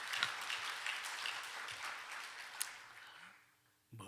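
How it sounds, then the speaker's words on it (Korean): Congregation in a church service claps together in thanks, a dense, fairly faint wash of applause that holds for about three seconds before fading out, with a voice starting up right at the end. "하나님께 감사와 영광의 박수"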